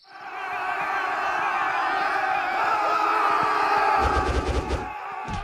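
A crowd of villagers shouting and roaring together as they mob and beat a man in a Hindi horror film, with a sustained loud clamor that grows and later turns into harsh rapid thumping bursts.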